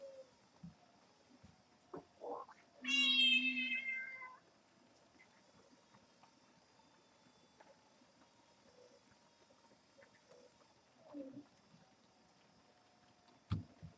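A cat lets out a single clear, drawn-out meow close by in a quiet pottery workshop, followed by faint small taps and rustles and a few soft, brief vocal sounds.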